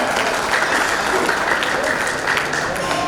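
Applause for Kamlaben at a Raas Garba festival for disabled performers, a dense, steady clapping from a large audience, loud and continuous throughout.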